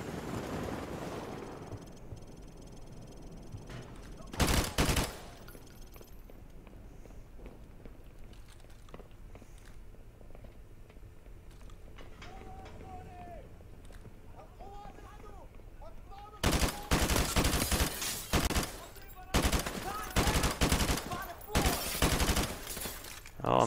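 Gunfire in the video game Call of Duty Modern Warfare Remastered comes as a short burst early on, then dense, loud rapid volleys near the end, with quieter game ambience and a voice talking in between.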